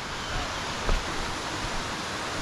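A waterfall on a trip in India roars as steady broadband rushing water, continuous and fairly close, with a brief louder splash near the middle.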